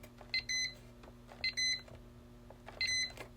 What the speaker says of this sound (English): anytime I press a button on the annunciator, the panel also beeps